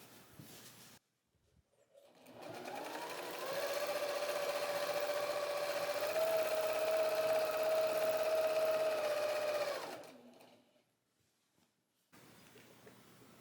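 A sewing machine runs continuously for about eight seconds while free-motion quilting a meandering stitch, a steady motor whine that ramps up, holds at speed and winds down, alone with no voices.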